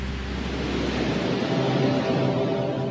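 Skógafoss waterfall in Iceland, a broad, steady roar of falling water heard close by, dense rushing noise with a deep low rumble and constant wind-like hiss throughout.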